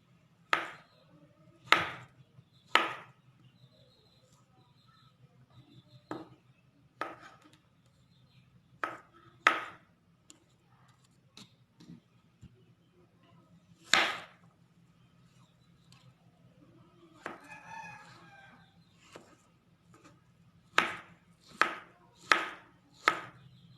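Potatoes being chopped with a knife in a home kitchen: sharp, separate knife strikes on a board, coming in irregular bursts with pauses between them, with a fast run of chops near the end and no voices.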